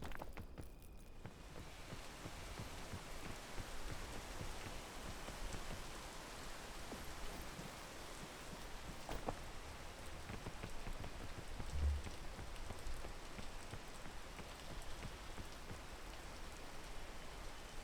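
Steady rain pours down in the climbing video game Peak, a constant even hiss of drops hitting surfaces that continues unbroken throughout, with a faint thud near the end.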